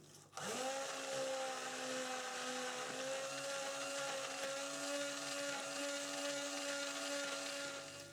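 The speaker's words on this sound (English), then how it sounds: "the kaolin clay and the indigo powder do benefit, I've found, from a little bit of a stick blend" Stick blender whirring steadily as it mixes kaolin clay and indigo powder into cold process soap batter, a continuous close motor hum with a tonal whine that starts abruptly and runs unbroken.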